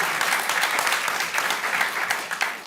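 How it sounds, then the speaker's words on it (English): Warm applause from an audience welcoming an author at a talk, a continuous clatter of many hands, moderately loud and even for under three seconds, with no voices over it. "Can I have a warm applause?"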